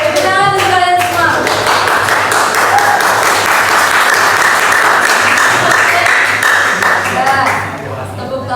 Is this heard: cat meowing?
no